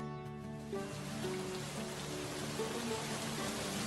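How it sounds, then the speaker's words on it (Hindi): Rain falls on a farm field as a dense, even hiss of drops, with faint musical tones underneath. "अरे वाह, बरसात!"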